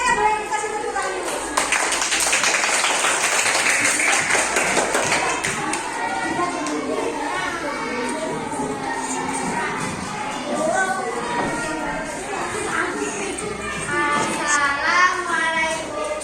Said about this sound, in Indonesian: Semuanya boleh dikasih tepuk tangan dulu.